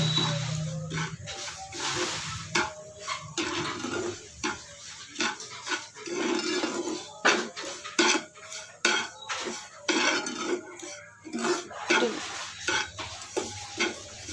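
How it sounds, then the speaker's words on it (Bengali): Semolina frying in a pan over low heat while being stirred, with steady scraping and clinking of a spoon against the metal over a soft sizzle, repeated in close, rhythmic strokes. "সুজিটা ভাজবো ভালো করে কিন্তু পুড়ে না যেন"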